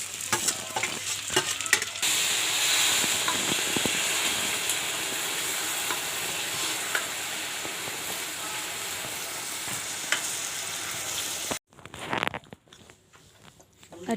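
Onion and garlic sizzle steadily in hot oil as a tempering in a pan, a continuous close frying hiss with occasional stirring clicks, then the sizzle cuts off into quieter scattered sounds near the end.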